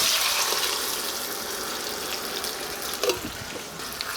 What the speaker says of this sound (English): take a whole 28-ounce can of whole peeled tomatoes and dump everything in